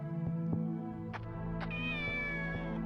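A cat in the video game Shenmue HD meows several times, short close calls followed by a longer drawn-out meow over a steady musical background, with no talking.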